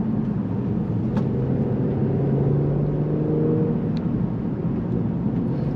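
Steady engine drone and road noise from inside a Mercedes-Benz E450 4MATIC V6 coupe climbing a hill, a continuous low hum that holds constant at moderate level without speech.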